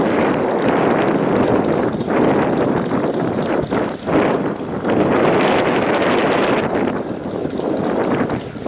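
Wind gusts rush steadily over a homemade bicycle wind generator with a taped rotor, a loud continuous roar with buffeting, close to the microphone, and no voices.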